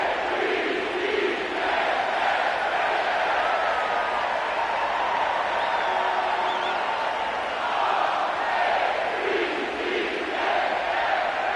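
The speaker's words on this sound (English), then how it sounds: "The crowd is definitely ready." A stadium crowd in an EA Sports football video game, set at M&T Bank Stadium in Baltimore, roars in a dense, continuous wash of cheering that swells and dips slightly throughout.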